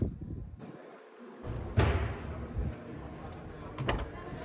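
The trunk of a 2022 Škoda Enyaq SportLine closes with a single soft, muted thump after a brief sliding rustle, followed by faint quiet ambience.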